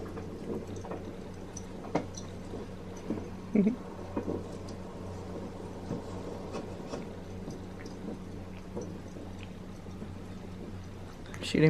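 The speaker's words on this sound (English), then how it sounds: "Cat cleaning self." Cat named Watson grooming itself, with soft, close wet licking and small smacking sounds scattered over a quiet room hum, plus a few faint louder bumps.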